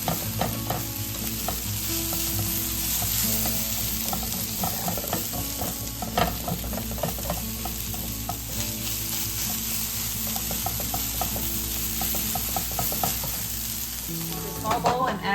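Sausage sizzles and fries steadily in a pan while being stirred and mixed, with frequent scraping and clattering of the utensil against the pan over a constant hiss throughout.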